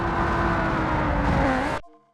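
A cold race car engine in the BeamNG driving game drones loud and rough at steady high revs, then cuts off abruptly near the end, leaving a faint fading hum.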